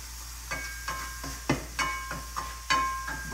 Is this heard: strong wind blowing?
no